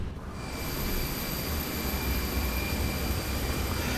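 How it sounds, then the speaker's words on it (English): Lufthansa A321 flaps retracting after takeoff on a snowy winter departure from Frankfurt, heard from the cabin as a steady, loud, broadband engine and airflow roar with thin high whines running through it. "And the flaps are retracting."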